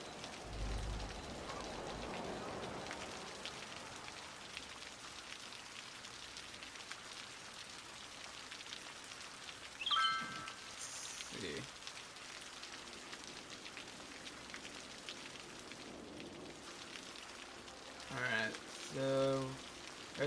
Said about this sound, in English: Rain's kind of annoying, though.